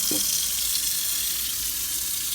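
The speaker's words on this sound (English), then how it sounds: "So basically, we're going to rinse them and put them over in our bowl here." Oxtail pieces rinsed under a running kitchen tap, a steady loud rush of water with one brief knock near the start, no talking.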